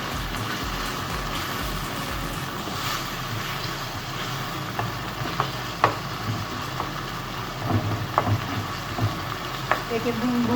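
Ground tomato paste fries in oil for qeema karahi with a continuous close sizzle, dotted with scattered pops and light spatters that grow more frequent toward the end.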